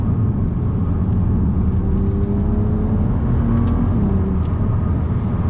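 BMW Z4 35is roadster engine pulling steadily under partial throttle on the road, a loud continuous low drone with rising tonal lines, heard close from inside the car.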